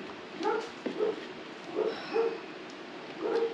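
A dog barks outdoors in short bursts of yips and bow-wows, several spaced barks at moderate distance with no talk over them.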